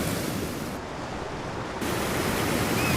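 Pacific Ocean waves crashing on the rocky coast of Chile just a couple of metres below, a loud, dense, continuous roar of surf with a brief dip in the spray hiss partway through.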